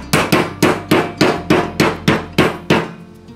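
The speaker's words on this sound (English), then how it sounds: "we'll take our meat hammer and flatten these out" A meat hammer pounds goose breast flat with about ten loud, evenly spaced whacks, each a sharp close thud on a board that dies away before the next, with no talk.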